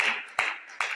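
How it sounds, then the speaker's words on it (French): A church congregation claps in a steady rhythm during worship, three evenly spaced, moderately loud beats in about a second. "Applaudissons le roi des rois."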